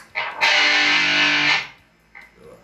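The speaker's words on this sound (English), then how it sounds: "to metal." Electric guitar with heavy metal-style distortion, one loud sustained saturated chord ringing for about a second before being cut off, followed by a quieter short strum.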